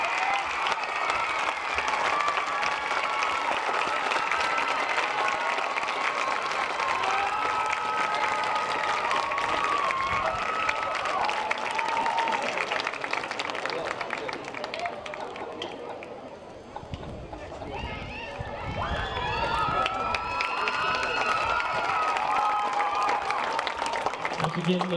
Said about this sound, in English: let's give a round of applause for our 2020 homecoming king and queen, Mr. Caleb Berry and Miss Emily Roddy